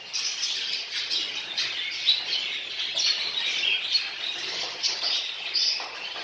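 Texas jumbo budgerigars in a breeding aviary chirp and squawk continuously, a busy overlapping chatter of high tweets at moderate distance with no talking.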